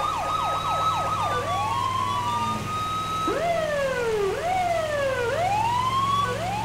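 Police car siren in GTA V, a patrol vehicle's wail and yelp cycling loud and close throughout, rising and falling sweeps over a steady low engine hum, with no talking.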